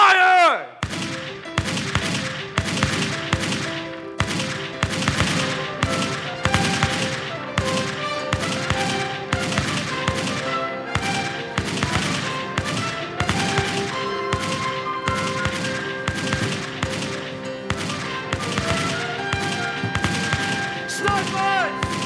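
A long staged gunfire volley from a stage production of Les Misérables: dense, rapid, repeated gunshot-like cracks with ringing tails that keep going steadily, loud and close, and no talk.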